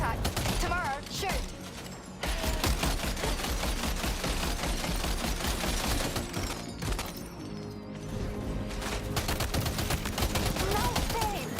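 Gunfire in Death Stranding 2 during a fight against ghost mechs, with dense, continuous rapid bursts and mechanical clatter ringing out loudly for the whole stretch, briefly thinning once before resuming.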